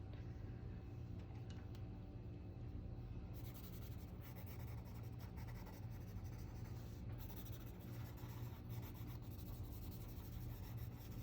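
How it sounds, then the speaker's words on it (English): Graphite rubs across a drawing on paper in a quiet, continuous scratchy friction sound, steady and close, under a low background hum. "I'm going to add a little graphite to this one"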